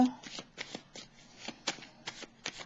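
Tarot cards being shuffled and laid down during a reading, a series of soft, close riffling and slapping bursts in uneven rhythm, quiet overall.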